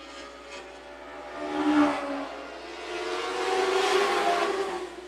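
Dwarf race cars at Phillips County Raceway running down the back straightaway, their engines rising in a distant drone that swells and fades as the pack passes.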